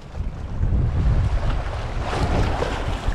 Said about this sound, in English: Just got to be careful with the wind. Just blowing that lure.